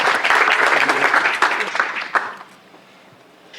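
Audience applause at a venture showcase event, a loud burst of many hands clapping that holds for about two seconds and then tapers off into quiet room tone.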